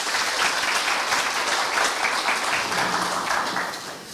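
Audience at a Korean traditional music concert at a university applauding, a loud, dense, continuous round of clapping from a full hall that holds steady and fades a little at the close.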